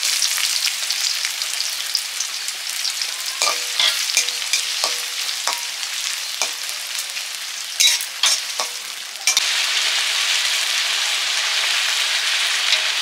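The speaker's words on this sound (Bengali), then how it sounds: "এবারে পেঁয়াজগুলো ভেজে নেব" Sliced onions deep-frying in oil into crisp beresta for a home-cooked biryani: a loud, steady sizzle runs throughout, broken by a handful of sharp stirring clinks and scrapes, with no talking.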